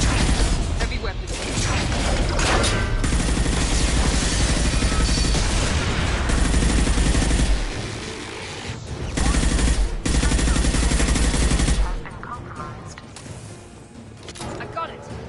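Heavy weapons fire in the video game Mass Effect Legendary, a loud, dense barrage of rapid shots and blasts that carries on for several seconds and then drops away into quieter rumbling.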